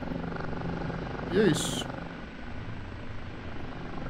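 An OH-58D Kiowa helicopter flies in the DCS flight simulator, its rotor and engine a steady low drone throughout, with a person speaking briefly over it.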